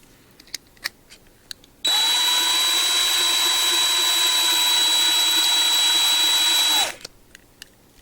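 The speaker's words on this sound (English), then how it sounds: "Let's get the drill." A power drill whirs steadily at high speed for about five seconds while boring into a die-cast 2008 Toyota race car model, starting and stopping abruptly with a sustained whine, close and loud, with no talking.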